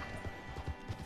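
Horse hooves clip-clop in Red Dead Online, several soft, rhythmic thuds over a steady background hum.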